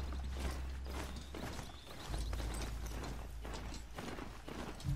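Horse hooves clip-clopping in a steady walking rhythm in the Horizon Zero Dawn video game, moderately close over a low rumble, with no voices.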